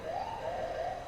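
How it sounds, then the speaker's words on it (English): Ambulance siren in the video game FiveM (GTA V), a faint wailing tone rising and falling steadily for about a second, heard alone. "I think that's the ambulance."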